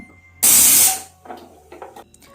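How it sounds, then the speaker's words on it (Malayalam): A pressure cooker holding bananas lets off a loud, sharp hiss of escaping steam for about half a second, then it dies away into faint clinks and small handling noises close by. "കുക്കറിൽ പഴം വേകാൻ വേണ്ടി ഞാൻ നാല് വിസിൽ കേൾപ്പിച്ച് ഇപ്പം ആവിയൊക്കെ പോയിട്ടുണ്ട്"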